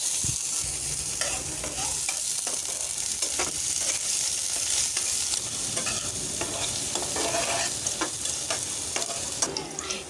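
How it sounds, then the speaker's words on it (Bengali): Onions sizzle and crackle steadily in hot oil, with occasional stirring scrapes against the pan and no talking. "প্যানেতে দিয়ে দিয়েছি তেল, দিয়ে দিচ্ছি পেঁয়াজ"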